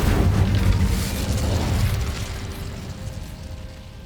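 The Incendio fire spell bursts out in Hogwarts Legacy with a loud whooshing boom that rolls into a long rumbling decay, then fades to a quieter low hum.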